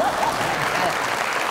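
Studio audience applause on a Pakistani comedy talk show, a dense, even stretch of clapping with faint crowd sounds and a brief voice at the start.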